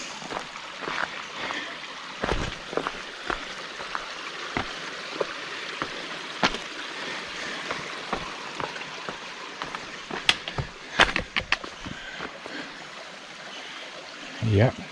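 A mountain stream in a canyon trickles and burbles steadily, with irregular splashes and knocks scattered over the flow.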